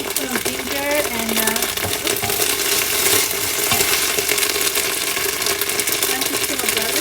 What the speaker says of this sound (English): we are going to add in our ginger garlic paste